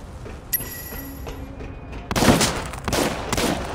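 Gunfire in the video game Sleeping Dogs: a quiet stretch with a couple of faint clicks, then a burst of loud overlapping shots and booms that rumbles on to the end.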